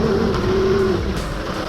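A 72V YZ250 electric dirt bike with an E&C QS138 EMX kit rides over a thick layer of wet leaves, giving a steady close motor whine over a low rumbling rustle with no break.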